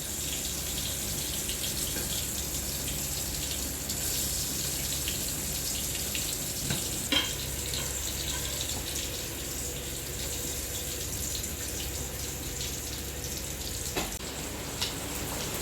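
Fish frying in oil in a pan for meen kuzhambu, a steady, even hiss and sizzle with a few faint clicks and pops.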